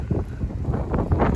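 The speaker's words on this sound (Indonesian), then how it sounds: "angin sangat kencang sekali hari ini di atas KM Dharma" Strong wind buffets the microphone on the deck of the ship KM Dharma Rucitra 8, a loud, continuous rough roar with gusty surges and no talking.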